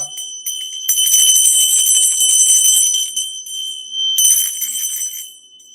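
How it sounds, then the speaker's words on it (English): A bell rung twice, each strike a bright, ringing metallic tone that sustains and fades, loud and close with nothing else around it. "I'm about to ring this bell."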